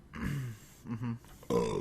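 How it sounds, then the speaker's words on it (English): A person drinking beer lets out a few close, low burps, in three short throaty bursts separated by brief pauses, with the last one louder. "I'm sorry about the burping. I'm drinking beer right now"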